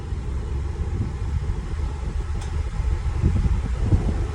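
A Fiat Scudo van's engine runs steadily at idle, with a continuous low rumble close by and no speech.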